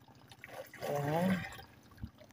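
Water scooped and poured into a container, a soft brief gurgle and trickle rising midway then fading, faint and close under low background noise.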